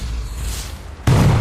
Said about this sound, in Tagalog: Parang may narinig akong pagsabog.